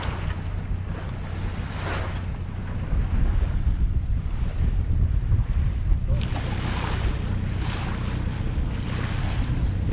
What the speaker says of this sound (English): Tell you what, this wind is very cold.